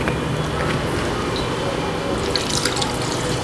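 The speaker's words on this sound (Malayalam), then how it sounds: "ഇനി ഇതിലേക്ക് വെള്ളം ചേർത്ത് കൊടുക്കണം." Water runs and splashes steadily into a bowl of soaked poha being prepared for ragi idli and dosa batter, a close, continuous pouring trickle with faint drips and no speech.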